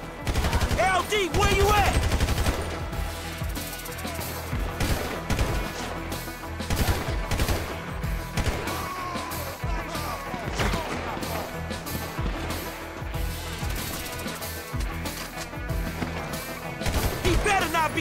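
Sustained Grand Theft Auto 5 gunfire, dense automatic bursts and shots rattling continuously throughout, loud and close, with a voice calling out over the shooting.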